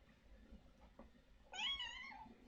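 A house cat gives a single short, plaintive meow up close after a quiet, low background murmur.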